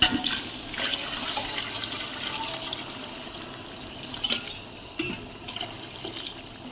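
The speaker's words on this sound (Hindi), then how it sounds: "इधर हमारी बुनाई कंप्लीट हो चुकी है, तो इसमें अब हम पानी डालेंगे।" Water poured into a pot of fried rice and black chickpeas while making chickpea pilaf, a steady splashing pour with a few brief louder splashes, no talk.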